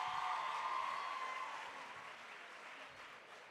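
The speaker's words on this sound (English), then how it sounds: "Asimpinde with another round of applause, please." Audience applause at a SADC Summit public lecture at the University of KwaZulu-Natal, a broad steady wash of many hands clapping that starts full and slowly fades over a few seconds.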